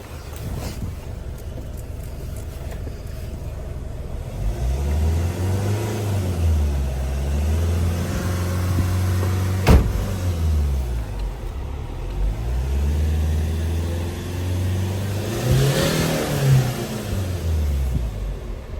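A car engine revs up repeatedly in long rising and falling swells, idling between pushes, fairly close.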